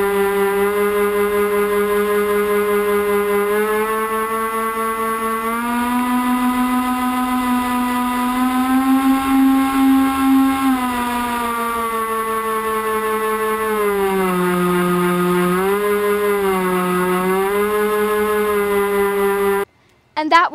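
Electric motors spinning 6x4 propellers, mounted on a bar across the front of an RC camera plane's fuselage, give a loud, steady buzzing whine. The pitch rises and dips as the throttle changes, continuing until the sound cuts off abruptly near the end.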